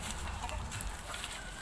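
Backyard poultry, chickens with half-grown chicks, cluck softly in a short, steady murmur from nearby pens, with no talking over it.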